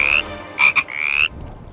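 Bullfrog croaking in a wild swamp: three close, loud, strongly tonal calls, a long one, two quick short bursts, then another long drawn-out croak, with no other voices.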